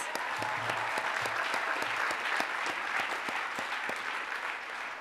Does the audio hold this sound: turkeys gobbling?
no